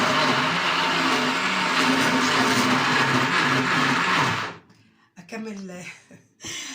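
A blender whirs loudly for several seconds while mincing for kofta, then cuts off, followed by a voice talking.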